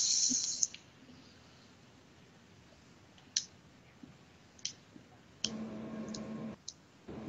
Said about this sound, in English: You can hear some clicking and rattling as some kind of primitive cogitator system works.